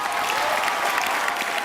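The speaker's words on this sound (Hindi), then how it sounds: "जोरदार तालियां।" Studio audience at a television comedy show applauds, a dense, steady patter of many hands clapping at moderate loudness throughout with no talking.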